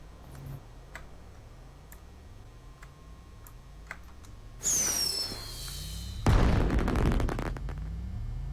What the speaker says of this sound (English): Let's let a firework off.